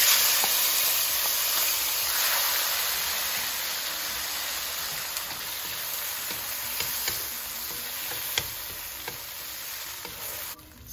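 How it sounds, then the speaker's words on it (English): Tomato sautéing in a pan with cumin seeds and curry leaves for Kashmiri baingan gives off a steady, close sizzle, broken by scattered small pops and stirring clicks throughout. "So now we will saute this tomato until it will be mashy and soft"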